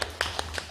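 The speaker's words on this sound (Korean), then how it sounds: "박수 한번 부탁드리겠습니다" A few sharp, evenly spaced hand claps ring out nearby in a quiet forum room, a brief rhythmic patter rather than full applause.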